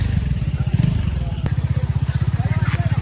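A motorcycle engine putters with a steady, rhythmic throb close by on a bike route near the Kakkadampoyil river, heard under people talking.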